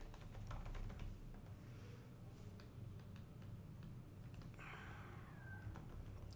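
Typing on a computer keyboard, light irregular clicks of keys close by and fairly quiet, with no talking.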